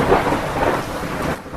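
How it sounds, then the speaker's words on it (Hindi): Heavy rain pours with rolling thunder during a storm, a steady, loud, broadband roar that holds throughout with no voices. "3 दिन बीत गए लेकिन अभी तक बारिश बंद नहीं हुई।"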